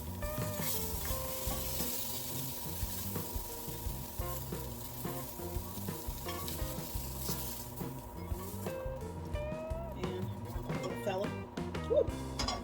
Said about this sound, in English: You see all of our sausage going in.